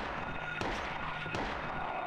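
Two sharp gunshots ring out in the Silent Hill video game, spaced under a second apart against a steady layer of in-game background noise.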